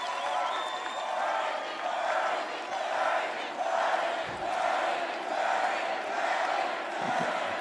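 An enormous crowd at a Bernie Sanders rally in Los Angeles cheers in rolling waves. The roar rises and falls every second or so, with distant shouts mixed into the steady, far-off sound.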